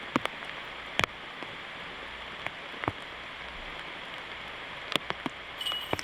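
Steady pouring rain soaks an outdoor disc golf course, a continuous broadband hiss with scattered sharp drips and taps, a few louder knocks near the start and end, and no talking.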